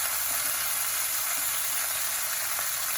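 Baby back rib tips sizzle steadily in a pan on the stove, a constant dense crackling frying sound with no voices over it.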